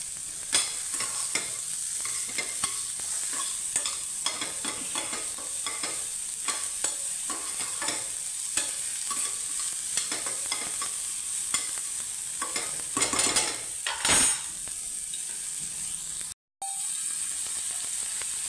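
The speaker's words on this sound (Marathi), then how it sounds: "आता आपण त्याच्यामध्ये कांदा भाजून घ्यायचा आहे" Onion roasts in a pan for a brinjal bharit, a continuous close sizzle broken by repeated scraping stirs of a spatula, with one louder scrape near the end and a brief dropout.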